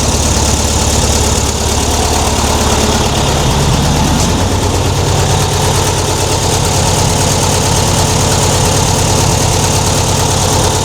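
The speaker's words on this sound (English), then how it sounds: "it's still quite loud, but then it is a sport pack Empi exhaust" A loud air-cooled VW Beetle engine idles steadily through an Empi sport exhaust, a dense low rumble with a rough, burbling pulse, close and continuous.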